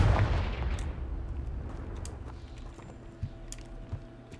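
Confringo fire spell in the video game Hogwarts Legacy: a loud boom at the start that decays into a rumbling tail, followed by faint scattered crackles and debris clicks with no talk.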